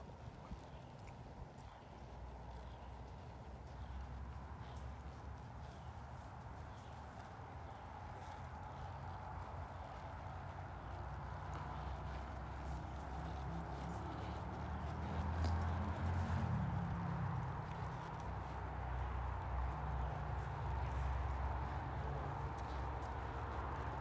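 A horse being ridden in circles during training gives soft, steady hoof clip-clops on the ground, faint and somewhat distant over a low background rumble that swells slightly toward the end.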